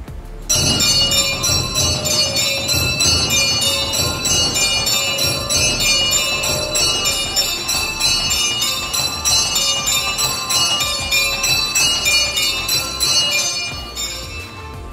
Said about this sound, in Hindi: तो चलो अंदर चलते हैं घंटा नाद करके।